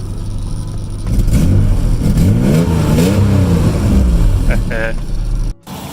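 A 1987 Nissan 300ZX engine revs up and holds a loud, steady roar for several seconds, cutting off abruptly near the end.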